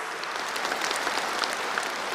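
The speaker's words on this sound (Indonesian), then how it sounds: "buat tepuk tangan yang keras." Loud, dense applause from an audience at a political event in Indonesia, steady crackling clapping sustained throughout with no talk.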